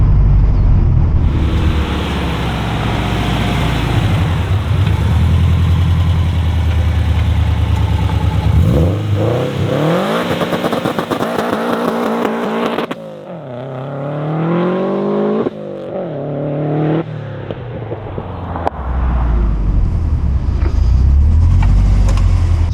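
A 2007 Subaru WRX STI engine roars loudly and steadily, then revs up and down in rising, falling sweeps to 7,500 RPM before settling back into a heavy idle, with no talking.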